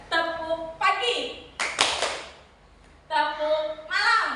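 Schoolchildren in a classroom clapping game give a short burst of claps between an adult's spoken instructions and the children's chanted replies, the clapping brief and close.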